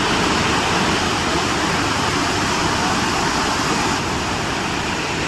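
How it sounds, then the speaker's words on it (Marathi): Ravana Waterfall in Sri Lanka roaring continuously, a loud, steady broadband rush of falling water with no breaks and no voices. "तर हा बघू शकता तुम्ही समोर, तर रावणा वॉटरफॉल आहे"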